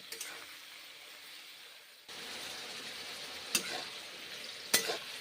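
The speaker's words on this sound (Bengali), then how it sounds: "পেঁয়াজগুলো ভেজে নিয়েছি তারপরে মাশরুম তারপর ঝিঙ্গে সব কিছু ভেজে" Mushrooms and ridge gourd with onions frying in a pan, a steady close sizzle that swells partway through, broken by a couple of sharp spatula clicks.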